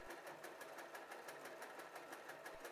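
A W6 N 1235/61 sewing machine stitches steadily, its needle pulsing in a fast, even rhythm. The sound is a faint, close mechanical whir that runs on alone.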